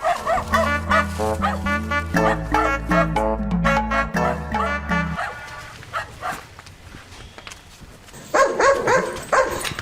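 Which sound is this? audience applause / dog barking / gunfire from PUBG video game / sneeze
dog barking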